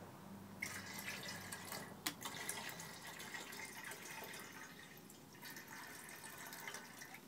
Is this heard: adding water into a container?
yes